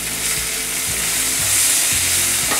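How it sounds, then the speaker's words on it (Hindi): Tomatoes with salt and turmeric sizzle steadily in a pan while being cooked down for poha, with loud continuous frying and scraping stir strokes close by and no talking. "अभी हम इसको ऐसे ही कुक करेंगे तब तक टमाटर नहीं गल जाते"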